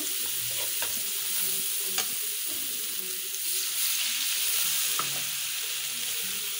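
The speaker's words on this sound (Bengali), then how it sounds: "মশলাগুলো ভালো করে কষিয়ে নেব" Garlic and cumin paste with turmeric, chili powder and salt frying in a pan, a steady close sizzle with occasional stirring scrapes and clinks.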